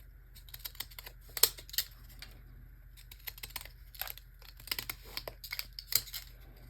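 Scissors trim a paper faux-postage-stamp cutout in a quiet room, giving a scattered series of short, crisp snips and paper rustles at close range.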